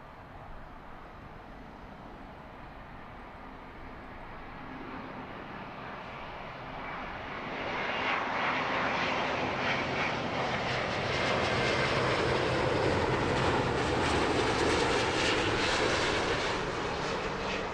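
A Finnair airliner approaches and lands on runway 09 left at Heathrow, its engine roar swelling steadily from a distant rumble to a loud, broad sustained noise with no voices.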